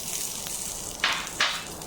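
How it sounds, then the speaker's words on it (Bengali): Red chillies and garlic fry in hot oil in a pan for a fish bharta, giving a steady, soft crackle and hiss, with two short, brighter bursts of sizzling near the end and no voices. "এবার আমি ভেজে নেব লাল কাঁচামরিচগুলো"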